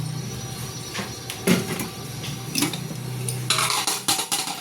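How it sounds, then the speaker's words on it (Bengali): A metal kadai is set down on a lit gas stove, giving a few sharp metallic clanks and knocks against a low steady burner hum, with no talking. "তো চানা বানানোর জন্য আমি গ্যাস জ্বালিয়েছি এবং কড়াটা বসিয়ে দিয়েছি।"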